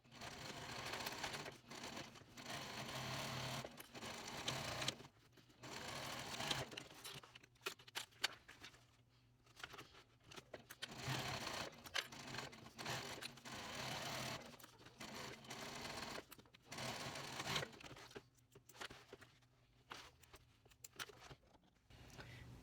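Backpack edges are sewn on a sewing machine in a long, steady run with brief stops and restarts, a low, close mechanical whirr that stays fairly quiet throughout.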